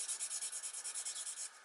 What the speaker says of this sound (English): You can pop these in a drill and just spin them and run the emery paper up against them.